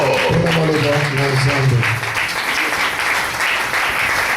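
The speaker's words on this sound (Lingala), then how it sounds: "On peut s'asseoir en acclamant pour la parole." A church congregation at a thanksgiving service breaks into a burst of loud, sustained applause that follows a short stretch of voices and fills the room in a dense wash of clapping.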